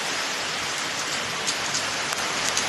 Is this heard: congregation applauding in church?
no